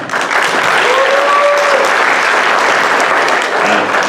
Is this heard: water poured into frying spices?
no